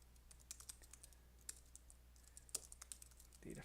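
Quiet, steady typing on a computer keyboard, a run of close, light key taps with a few louder strokes over a low hum.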